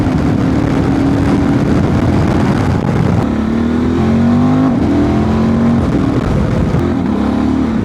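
A Honda Transalp 750 motorcycle with a remapped ECU accelerates hard, its engine note loud and rising through the gears with brief shifts, heard close over steady wind rush.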